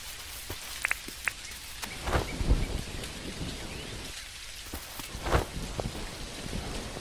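Rainstorm in the farming life-sim game Dinkum, dense steady rain hiss with distant rolling thunder rumbles swelling twice, scattered drop taps over the top, no voices.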